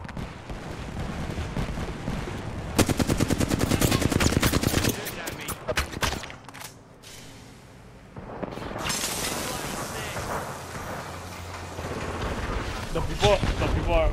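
Gunfire in a video game crackles in dense, rapid bursts with heavy booming impacts. Firing is loud at first, drops to a quieter lull, then returns in a sustained barrage, with talk over it.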